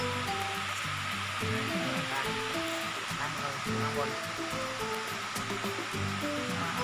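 A forest stream near a waterfall at Pha Tat Falls rushes steadily in a continuous broadband wash, with someone talking over it at moderate distance.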